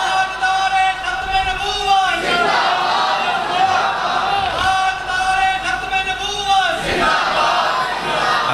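A large crowd at a religious gathering shouts slogans in unison, rising in loud, roaring waves over a steady hubbub, with a voice leading between the bursts.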